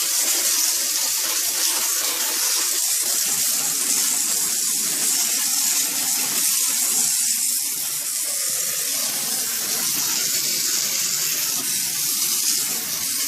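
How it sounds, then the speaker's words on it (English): A garden hose sprays water across an old wooden deck during cleaning, giving a steady, close hiss with no breaks for the whole stretch and no voices. "I'm actually using a hose."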